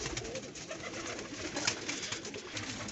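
Red-eyed pigeons coo steadily and close by, with soft repeated cooing over a busy, noisy background and no talking.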